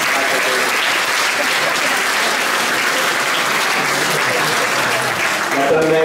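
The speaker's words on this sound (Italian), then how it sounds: "Un applauso perché la museo." A hall full of people gives sustained, dense applause at a community event celebrating a house becoming a museum, steady and loud throughout, with a voice faintly audible near the end.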